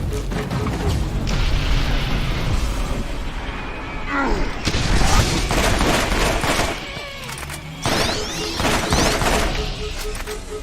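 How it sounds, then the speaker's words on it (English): Grenade explosions in Borderlands burst as loud, dense booms and crashes layered with rapid gunfire, one blast after another across a chaotic firefight, with no clear speech. "Grenades."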